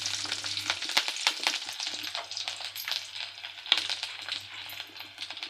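Sliced garlic frying in hot oil in a kadai, with curry leaves already in the pan: a steady crackling sizzle carries through, broken by a few sharp clinks and stirring knocks, close up with no voices.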